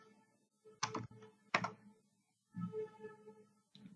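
Someone types a short word on a computer keyboard into a chat prompt, making a few close, clicky bursts of keystrokes separated by short pauses, with nothing else to be heard.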